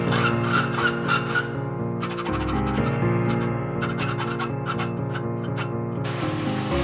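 Harsh, steady metallic grinding and scraping as steel is cut into fingers for a steel and wood crucifix, with a droning background hum, briefly breaking off partway through before resuming, loud and close.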